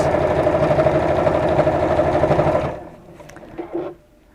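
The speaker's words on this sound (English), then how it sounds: "I'm actually really impressed with how this is sewing from this side without any walking foot or Teflon foot" A sewing machine stitching without a walking foot or Teflon foot runs loud and steady with a rapid rhythmic whir, then stops, followed by a few faint clunks and handling noises.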